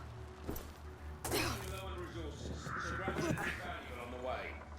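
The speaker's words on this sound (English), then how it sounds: "Crows!" Crows caw in the medieval video game A Plague Tale: Requiem, several harsh calls scattered over game ambience, thuds and character talk.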